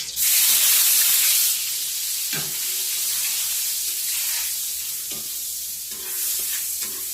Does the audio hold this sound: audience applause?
no